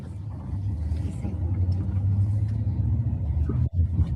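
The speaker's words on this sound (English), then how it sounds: "as Joe Biden's motorcade was driving through the city" Joe Biden's presidential motorcade drives through a city street as a steady, low rumble of vehicle engines that briefly dips near the end.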